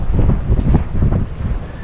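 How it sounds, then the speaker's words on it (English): Strong wind on a dock in Bar Harbor, Maine, in December buffets the microphone with a deep, gusting rumble that rises and falls, with no voices. "It's really windy out there on the dock."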